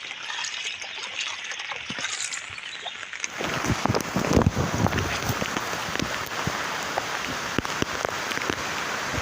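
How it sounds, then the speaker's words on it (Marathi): Heavy monsoon rain pours down steadily in Konkan farmland during river flooding, a dense hiss of drops drumming on surfaces, growing louder and fuller partway through with scattered sharper splashes. "आज पाऊस दुपारपासूनच भरपूर आहे पाऊस थांबलेला नाही"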